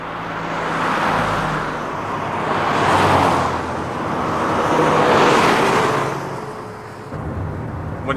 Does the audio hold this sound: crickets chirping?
no